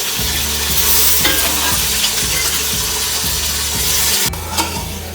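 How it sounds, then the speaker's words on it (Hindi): Boiled mutton frying with whole chillies in a pot gives a loud, constant sizzle, with rhythmic scraping and stirring strokes against the pot roughly every half second, close by and alone without talk. "अब हम इसको अच्छे से भून लेते हैं।"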